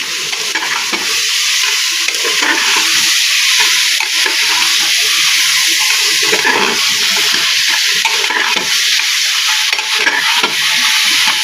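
A spice packet is mixed into biryani in a pan, giving a loud continuous sizzle with rough stirring noise close up and no talk.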